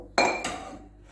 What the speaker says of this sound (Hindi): अब मैं डालूंगी छोले, जो चना भी कहते हैं लोग इसको,